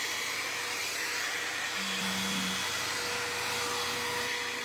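A brush-style hair dryer blows with a steady, even whoosh and a faint whining tone, constant and fairly close for the whole stretch, with no voices.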